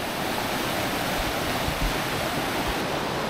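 Mountain stream water flowing beside a hiking trail on the Tour du Mont Blanc, a steady, loud rushing wash of whitewater that fills the whole moment with no pauses and no voices.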